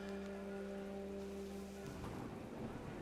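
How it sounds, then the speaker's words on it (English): Heavy rain pours steadily in the game What Remains of Edith Finch, a dense continuous downpour with low rumbling beneath, loud and close, growing rougher and heavier toward the end. "The rain came down in buckets then"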